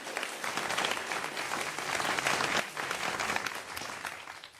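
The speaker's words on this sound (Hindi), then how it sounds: "हम उनके लिए तालियां बजा सकते हैं।" Steady applause from an audience, dense and continuous clapping that swells slightly in the middle, with a faint murmur of the crowd mixed in.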